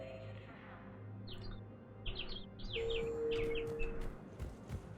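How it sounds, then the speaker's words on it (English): Birds chirp and tweet outdoors near a streamer, a few short call bursts repeating over a steady low background hum, moderately close. "Birds are chirping."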